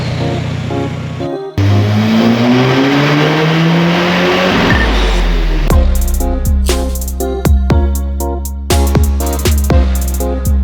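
A VW TDI with a 28/72 setup on a dynamometer: the engine revs up in one long, loud rising pull, then gives a series of sharp, rhythmic bursts and cuts as the revs settle.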